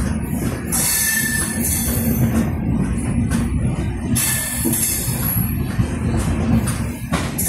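The Uttar Banga Express train rolls steadily along the tracks toward Bamanhat with a low rumble throughout, and high metallic wheel squeals rise and fade several times.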